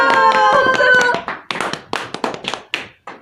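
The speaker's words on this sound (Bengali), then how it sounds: "এবার সবাই একটা হাততালি দাও" A small group claps, a quick burst of hand claps over a tonal background, then a string of separate, uneven claps near by.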